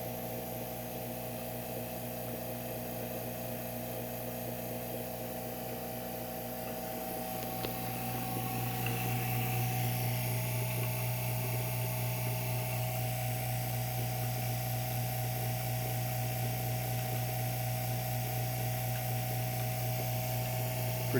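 A vacuum pump on an LED vacuum exposure unit hums steadily close by, and its tone deepens and grows louder partway through before holding constant.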